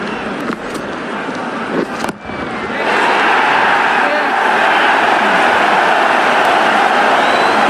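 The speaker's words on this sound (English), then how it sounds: "It's going to be hard for the bowler to focus with the crowd this excited." A stadium crowd in the cricket video game Ashes T20 swells into a loud, sustained roar of cheering after a few quieter seconds and keeps going to the end.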